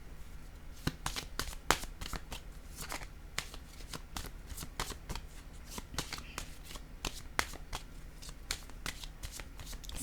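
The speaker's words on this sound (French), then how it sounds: "Je vais piger une autre carte" Tarot-style playing cards are shuffled and drawn by hand in a rapid series of crisp riffling flicks and snaps, close and quiet, with no talking.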